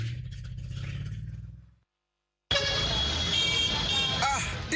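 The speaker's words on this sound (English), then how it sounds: "Traffic is at a standstill" Jammed road traffic in Lagos plays as a radio ad effect: a low engine rumble fades to brief silence, then busy street noise returns with several car horn toots and clattering, while a voice speaks over it.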